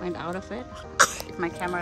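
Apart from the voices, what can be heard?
baby sneezing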